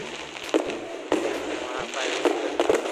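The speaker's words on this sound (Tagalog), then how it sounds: "Mga fireworks. Lapit na mag alas 12 pero marami na nagpapalabas." Fireworks pop and crackle before midnight on New Year's Eve in the Philippines, with repeated sharp bangs over a continuous crackling wash while people talk nearby.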